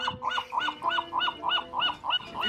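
A seagull calls close by in a rapid run of about nine harsh, evenly spaced cries with no talking around them.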